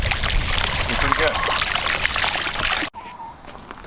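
Water pouring out of a rain collection bin on a chicken farm, a continuous splashing stream that cuts off abruptly near the end, leaving faint background sound, with a voice speaking over it.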